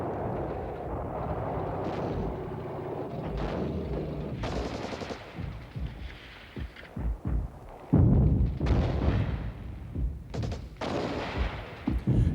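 Heavy artillery and machine gun fire in a Six-Day War battle against Syrian strongpoints: dense bursts of gunfire and booming blasts, loud and continuous, with sharper heavy impacts toward the end.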